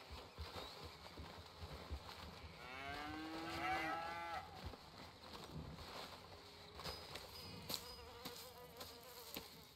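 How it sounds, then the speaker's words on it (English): Cattle mooing in a video game farm scene, several drawn-out moos rising and falling at moderate distance over a steady background buzz of flies or insects, with no talking. "Here's the cows."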